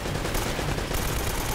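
Rapid automatic gunfire rattles continuously in an Uncharted firefight on the Great Wall, a loud, dense, unbroken burst of shots with no pauses.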